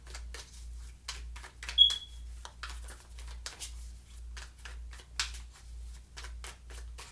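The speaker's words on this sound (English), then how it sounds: "Two more shuffles." Tarot cards are shuffled in quick, rhythmic riffles, soft papery flicks repeating steadily over a low pulsing hum, with no one speaking.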